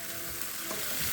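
Pork fries in a pan with onions and garlic, a dense steady sizzle close by with a brief stirring scrape partway through.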